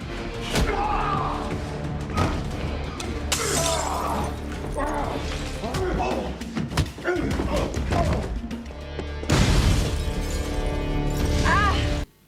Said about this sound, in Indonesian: akhirnya meledakkan sebuah granat yang seketika menghancurkan tempat itu